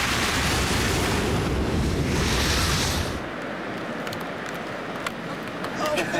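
Wind and surf roar on an exposed beach in Somerset, a dense loud broadband rush that drops to a quieter, steadier wash partway through, with a few faint sharp clicks near the end.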